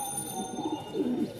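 Pigeons coo softly nearby, with a few low, rounded calls over a faint steady background hum.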